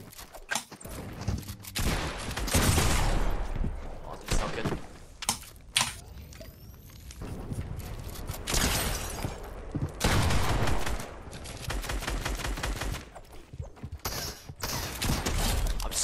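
Dual pistols firing in a shooter video game, with dense bursts of rapid gunfire coming in waves, loud and up close, broken by short pauses and clanking mechanical sounds.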